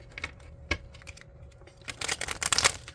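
A tarot clarifying card deck being shuffled by hand, giving soft riffling, flicking card noises in irregular bursts that grow denser and louder toward the end, with no talking.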